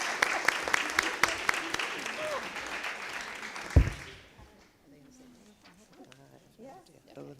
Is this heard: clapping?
yes